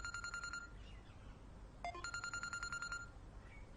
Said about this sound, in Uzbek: Buva, telefoningiz jing'illayapti